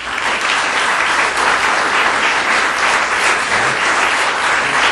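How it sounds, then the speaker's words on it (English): Steady, loud applause fills an indoor Boy Scout life-saving award ceremony, a crowd clapping continuously without pause. "Give another big round of applause, would you?"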